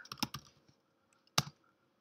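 A few quick keystrokes on a computer keyboard entering a terminal command, a short burst of clicks followed by a pause and one more sharp key press, close and quiet.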